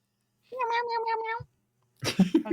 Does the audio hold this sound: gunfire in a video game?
no